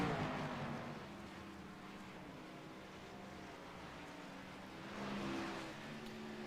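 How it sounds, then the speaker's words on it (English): Stock race car engine at Watkins Glen International during an ARCA series race, a steady, fairly distant drone with a slight swell as a car passes, with no voices over it. "Nick Terrell coming into pit lane for his stop, the number 81 machine."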